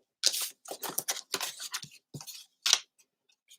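Scissors snip through paper pieces being cut for a handmade typewriter cover, a close run of crisp, rustling cuts in quick irregular bursts with brief pauses between strokes, and no voices.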